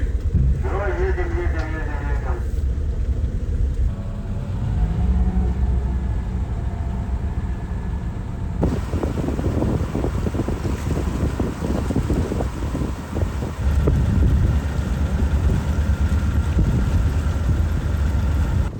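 A car engine rumbles as the vehicle drives onto a barge beside a small truck on a trip to an island in Primorye, with a steady low drone, wind buffeting the microphone and people talking over it.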